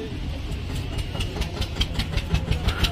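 A Farmtrac 60 tractor, 2018 model, idles at a Talwandi Sabo tractor market, giving a steady low engine rumble with a faint repeating clatter throughout. It sounds close and continuous, with no talk over it.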